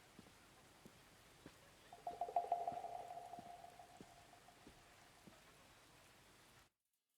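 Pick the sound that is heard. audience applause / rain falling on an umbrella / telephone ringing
rain falling on an umbrella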